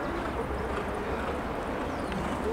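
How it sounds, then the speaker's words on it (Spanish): Muffled drumming of hooves from a galloping racehorse during a horse race, steady and fairly distant, buried in a wash of broad background noise. "Viene galopando"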